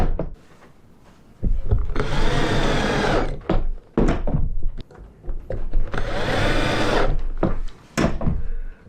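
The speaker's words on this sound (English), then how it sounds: "We'll get one of these small screws and whack that in." A power driver sets small screws into hinges on lightweight campervan cabinets, two sustained whirring bursts separated by short knocks and handling clatter, close and fairly loud.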